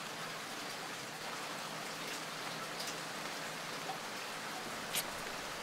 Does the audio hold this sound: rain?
yes